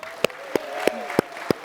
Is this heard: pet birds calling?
no